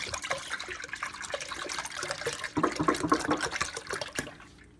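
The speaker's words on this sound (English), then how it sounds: "we're going to take the entire gallon of whole milk and I'm going to dump it into" A whole gallon of whole milk is dumped into a pan for homemade yogurt, making a continuous gushing, splashing pour that swells louder near the middle before tapering off.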